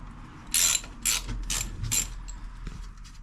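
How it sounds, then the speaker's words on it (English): Ratchet loosening a 12 mm bolt on a 2013 Yamaha FJR 1300 motorcycle: four quick bursts of clicking pawl close up, followed by a faint click. "we're going to remove the bolt right over here. And this is with the 12 millimeter."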